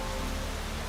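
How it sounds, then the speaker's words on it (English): Steady rain falls in the video game The Witcher 3, a dense, even hiss of drops with no breaks, fairly loud and close, and no voices for one short second. "Me, I love the rain."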